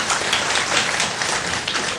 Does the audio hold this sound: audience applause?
yes